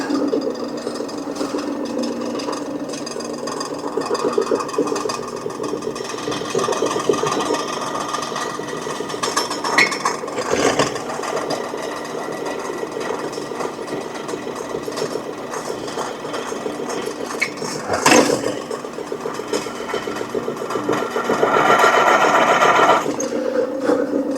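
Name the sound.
drill drilling a hole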